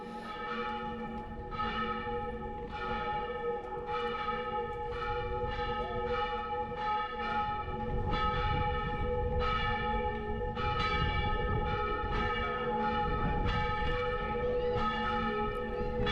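Church bells of the Church of San Pere de Apostol in Catalonia ring out in a steady series of strikes, each ringing tone overlapping the next, heard outdoors over a low rumble of wind or road noise.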